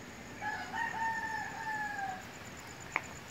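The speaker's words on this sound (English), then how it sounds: "Roosters crowing." A rooster crows twice in quick succession on a cool beach morning, the call moderately distant over soft breeze noise, followed by a brief tap.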